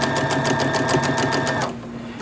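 A sewing machine stitching a curved seam runs in a rapid, even rhythm of loud close needle strokes, then winds down and stops near the end.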